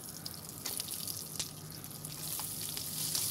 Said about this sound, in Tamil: பாருங்க, சுண்டக்காய் வத்தல் வந்து நல்லா பொரியுது.